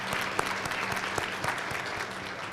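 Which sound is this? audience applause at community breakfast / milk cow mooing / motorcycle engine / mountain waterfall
audience applause at community breakfast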